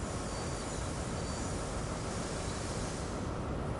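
An HST train in Train Sim World braking to a stop at a platform, a steady, dense rumble and hiss of wheels on rails holding at even loudness throughout.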